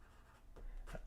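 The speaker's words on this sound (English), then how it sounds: "it makes a nice noise. I don't think enough is said about the sound that certain nibs make." Esterbrook Raven fountain pen with an extra fine nib scratching across paper in two or three short, faint, close strokes, each a soft dry scribbling rasp.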